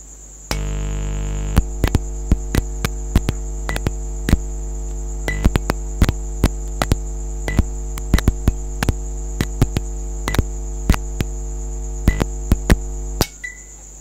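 A vintage Philips SL Prismatic lamp gives off a steady electrical hum while its cathodes heat up, broken by sharp irregular clicks and ticks before it cuts out near the end.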